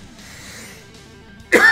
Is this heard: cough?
yes